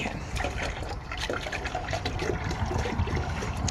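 Water being poured to refill a chicken drinking trough during a winter morning coop routine, a steady splashing trickle running close by for the whole stretch.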